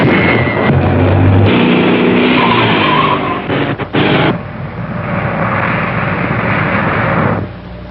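A car speeds along in an old mystery-film chase, the loud engine roar joined by screeching tyre skids, a sharp break midway, then continued rushing motor noise that fades at the end.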